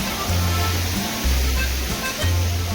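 Neer waterfall in Rishikesh rushes as a constant, full roar of falling water heard close up, with a low rumble rising and falling underneath and no one speaking.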